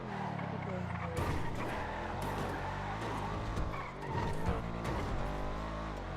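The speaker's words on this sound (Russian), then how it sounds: "Слишком громкая машина" A loud car engine roars continuously in GTA 5, with tyre skids and squeals mixed in, while people talk over it throughout.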